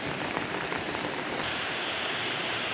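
Light rain falling at a riverside cafe, a steady, even hiss of drops that stays unbroken throughout, with no voices.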